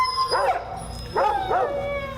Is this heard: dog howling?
yes